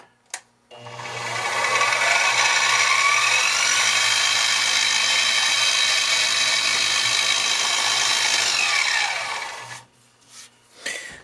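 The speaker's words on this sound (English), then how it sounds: "drill some holes for the handle" A power drill bores pin holes through a kitchen knife handle, likely wood from a bourbon barrel, in one long steady whine of about nine seconds with a strong low hum, close and loud, ending in brief clicks.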